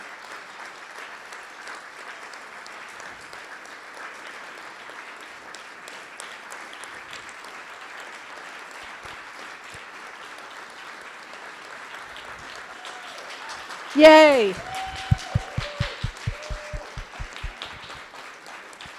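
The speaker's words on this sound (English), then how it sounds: "We should clap and stand for them." A church audience at an annual meeting applauds its staff team, steady sustained clapping throughout, then a voice cheers and a brief burst of laughter and chatter rises near the end.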